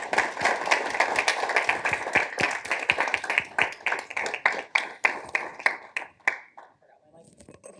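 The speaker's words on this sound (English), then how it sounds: "Let's give her a round of applause." An audience at an economics careers event claps for an incoming speaker, sharp distinct claps forming dense applause that thins out and fades near the end, with a voice briefly heard at the close.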